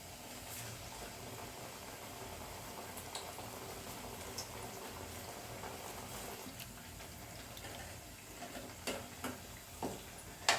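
Black-eyed pea vadas deep-frying in hot oil, a soft continuous bubbling and crackle with a few sharper pops near the end, faint and close.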